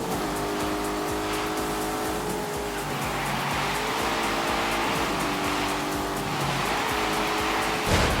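A car without a low-range gearbox, its drive system set to snow mode, revs loudly and continuously as it drives on snow, tires spinning and squealing with the engine note rising and falling throughout.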